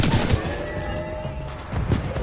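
Loud, sustained burst of rapid gunfire as a full magazine is emptied in a VR shooter game, with shots running together into a dense, continuous rattle.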